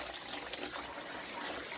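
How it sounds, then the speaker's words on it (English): Warm water runs from a tap into a stainless steel mixing bowl holding a little dish-washing liquid, a soft, steady splashing trickle, fairly quiet and unbroken for a brief moment. "I have a stainless steel mixing bowl with a little dish washing liquid in it. And I run a little warm water"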